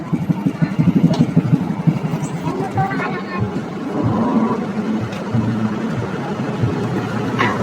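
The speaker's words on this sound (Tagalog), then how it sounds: "Ang motor." A motorcycle engine idles and putters nearby with a pulsing low rumble under a background of street chatter and passing traffic, while people talk close by throughout.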